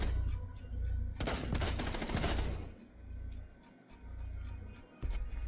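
Sustained automatic gunfire from the operator Doc in Rainbow Six Siege, a loud close burst lasting over a second, then quieter ambient game noise and one more sharp shot near the end.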